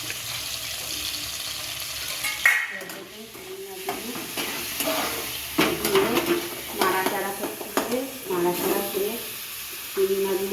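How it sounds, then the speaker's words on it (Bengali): Prawns drop into a hot pan and fry for a shrimp and pointed gourd dish, a loud sizzle with stirring and scraping clatter rising and falling, while a voice talks over parts of it. "এবার চিংড়ি মাছগুলো দিয়ে দিচ্ছি"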